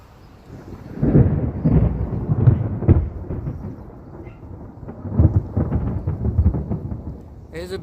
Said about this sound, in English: There's a big storm coming.